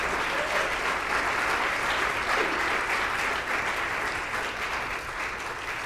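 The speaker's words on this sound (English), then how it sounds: "So let's give a big round of applause to everyone who made that happen." A church congregation at Sunday worship gives a big round of applause, a full, steady roar of clapping that holds evenly for several seconds and tapers slightly at the end, with no voices on top.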